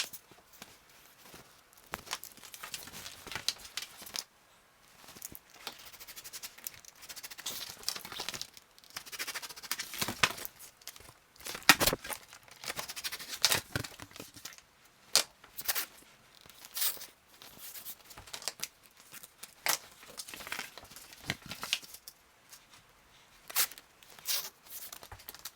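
Foam core board being cut into 42-centimeter squares for a still-life shadow box: quiet, intermittent scraping and tearing strokes of a blade through the board, irregular and close, with pauses between cuts.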